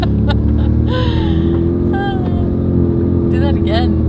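Porsche 992 GT3 RS fitted with a titanium exhaust, pulling hard under throttle with a loud, steady engine drone and rising tonal whine, heard from inside the car while people talk over it.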